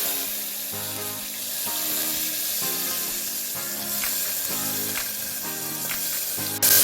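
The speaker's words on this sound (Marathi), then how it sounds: "राई जे तडतडलं की आपण मिरची, लसूण, कढीपत्ता आणि कोथिंबीर फोडणीला देऊया." Mustard seeds crackle and sizzle in hot oil with asafoetida for a tempering, a steady frying hiss dotted with sharp pops and spits, close and fairly loud, with no talking.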